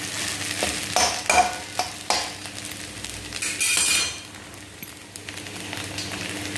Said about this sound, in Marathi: इथे मी परत एकदा झाकण काढून परतून घेतलं